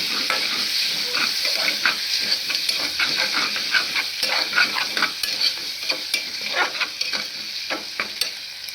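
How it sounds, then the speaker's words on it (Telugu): Tomatoes with salt cook in a pan for a vegetable biryani, sizzling steadily while a spoon stirs them in repeated scraping strokes, heard close and alone. "ఉప్పు వేసి కొంచెం కలబెట్టాలా కలబెట్టి కొంచెం టమాటా బాగా మెత్తగా గుజ్జు అయ్యేదాకా ఉడికించుకోవాలండి"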